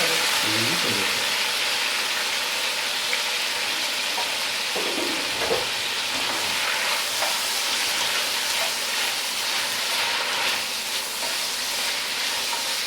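A tempering for mutton masala sizzles in hot oil with a steady, close hissing throughout, occasionally overlaid by faint low clatters and brief muffled voice sounds.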